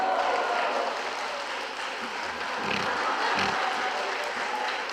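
A congregation claps in a church during a revival service, a steady broad wash of applause that carries through without a break and stays moderately loud.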